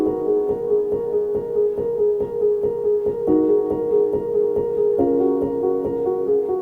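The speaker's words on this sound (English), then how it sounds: "Next, on top of that, I got a soft piano from Labs," A soft piano from Labs plays a simple chord progression in steady repeated strikes, the chords changing twice, clear and alone without any talking.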